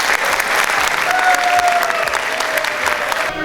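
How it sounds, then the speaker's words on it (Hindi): Audience at a classical music show applauding, a dense, sustained crowd ovation of many hands clapping at steady loudness, with a faint voice tone rising briefly beneath it. "तो तालियों की आवाज़ इस तरह से बजाएं कि उनको अंदाज़ा हो कि अमेरिका नहीं,"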